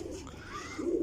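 Rooftop pigeons cooing close by in a short burst, a soft low warble that swells louder toward the end, with no talk over it.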